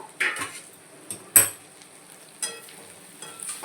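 A metal lid comes off a wok of bitter gourd and onion curry with a few light clanks and clinks. One sharper metallic knock sits in the middle, and a faint simmer runs underneath.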